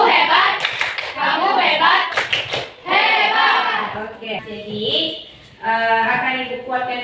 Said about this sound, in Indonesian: Kembali dulu tepuk hebat untuk kelompok 5.